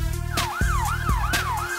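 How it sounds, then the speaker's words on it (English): A cartoon police car siren wails in a rising and falling loop, loud and close, repeating about three cycles over a low engine hum, with several sharp bangs mixed in. "Police car."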